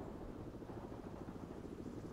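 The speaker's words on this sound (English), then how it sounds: "there are the helicopters" Helicopters in the video game World in Conflict give a steady, loud low rotor drone that runs unbroken through the whole moment, with no talk over it.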